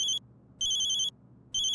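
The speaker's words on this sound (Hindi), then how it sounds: "फोन आया।" A telephone rings at a police station in a Hindi TV comedy, giving bright electronic trilling bursts that repeat in a regular on-off pattern with short silent gaps between rings.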